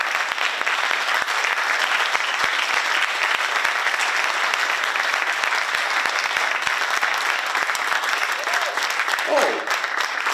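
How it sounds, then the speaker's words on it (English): Sustained applause from a lecture audience after a talk by a Harvard professor, a steady wash of many hands clapping that carries on without pause. "They're not stopping to clap. I'm waiting, and they're still applauding."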